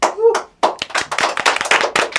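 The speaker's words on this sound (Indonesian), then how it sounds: "Lemes amat ya. Kayak ada jeda gitu tepuk tangannya." A small studio group claps in a thin, uneven burst, with gaps and scattered individual hand claps close to the mic, after a brief voice at the start.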